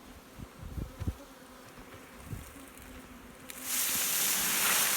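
Honey bees in a queen swarm buzz close by, with a steady hum and a few louder passes early on, then a dense, much louder rush of buzzing that rises suddenly and holds to the end.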